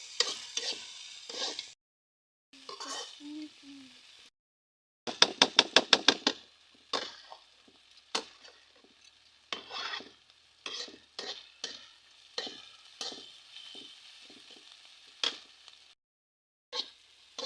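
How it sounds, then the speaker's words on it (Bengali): Papaya flowers stirred and fried in a pan, with repeated sharp clicking taps of a utensil against the pan in quick bursts over soft sizzling, broken by short pauses of silence. "প্রায় আর হয়ে এসেছে পেঁপের ফুল রান্না করা"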